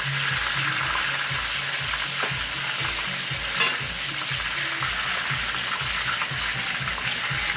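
Food sizzles and crackles in a hot pan with a steady frying hiss and rhythmic stirring scrapes, no voices.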